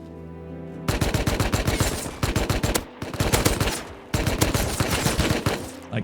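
Rapid automatic gunfire in the survival video game Rust: several dense bursts of loud, close shots separated by brief pauses, with no talking.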